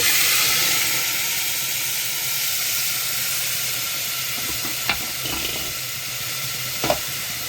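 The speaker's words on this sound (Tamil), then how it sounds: "இதுக்கப்புறம் இந்த டொமேட்டோ பியூரியை ஊற்றுறேன்" Tomato puree poured into a hot tempering of asafoetida powder and curry leaves, a strong steady sizzle and hiss close by, with a few faint clinks of a utensil stirring near the end.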